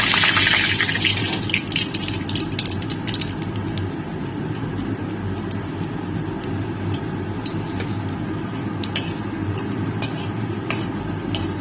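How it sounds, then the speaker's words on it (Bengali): Dried red chillies and black cumin seeds sizzle in hot oil in a pan, a steady frying hiss with scattered small pops and crackles, strongest at the start and then settling into an even sizzle. "এবার আমি এর মধ্যে শুকনো লঙ্কা আর কালো জিরে ফোড়ন দিয়ে দিচ্ছি।"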